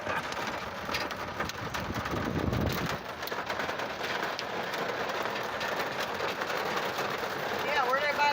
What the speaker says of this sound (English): We get into Tombstone and it's raining